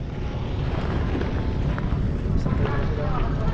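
Twin-engine speedboat running on the water, a steady loud broadband engine and hull roar with wind buffeting the microphone throughout, continuous and close with no pauses.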